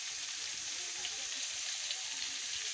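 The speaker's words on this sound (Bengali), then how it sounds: "তো এই আলুর দম কষাচ্ছি।" Boiled, peeled new potatoes sauté for aloo dum with an even, soft sizzle of oil, a constant close hiss with faint pops and no other sounds.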